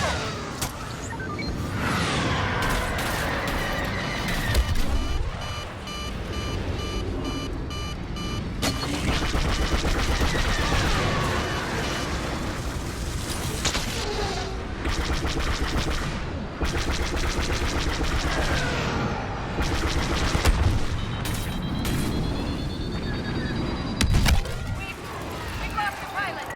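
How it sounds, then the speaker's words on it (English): Star Wars Battlefront battle on Tatooine with sci-fi blaster fire, whooshing flybys and explosions in dense layered bursts, a rising missile-like tone near the end and a loud blast; constant combat noise throughout. "Incoming missile."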